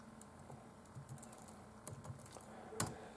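Quiet, close typing on a computer keyboard, a loose scatter of soft key clicks ending in one sharper keystroke.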